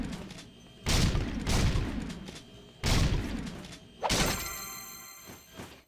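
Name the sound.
gunfire from the video game Jak 2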